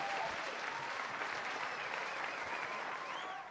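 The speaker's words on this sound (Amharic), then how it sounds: "ስለዚህ ለሀበሻና ለማኔጅመንቱ አንዴ ሞቅ ያለ ጭብጨባ።" A warm round of applause from the audience at an Ethiopian cultural awards event, steady many-handed clapping throughout with faint crowd murmurs and a few whistles mixed in.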